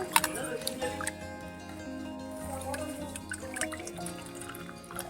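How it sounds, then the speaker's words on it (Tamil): Salted tamarind water poured into a village-style tuna fish curry, a soft liquid trickle and dripping over steady background music. "உப்பு புளி தனியாக கரைச்சி அதில் ஊற்ற போகிறேன்"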